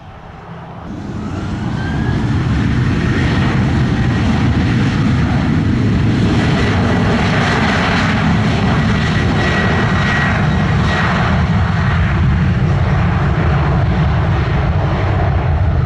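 A Sunwing jet airliner takes off from Sangster International Airport in Montego Bay, its engines swelling quickly into a loud, sustained roar with a high whine that holds steady throughout, with no talk.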